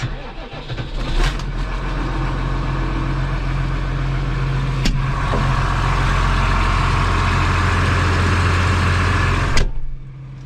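A six-cylinder New Holland TR6.150 tractor engine runs at a steady idle to warm up on a cold day, a continuous low diesel rumble. A brief start transient opens the run and sharp clicks punctuate it near the middle and end.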